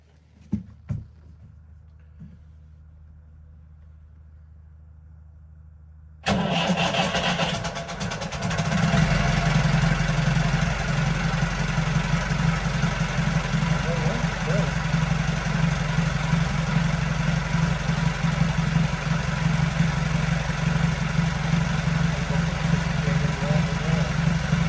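After a few quiet clicks and knocks, an engine on a boat project starts abruptly, then settles into a loud, steady idle that continues close by without a break until the end.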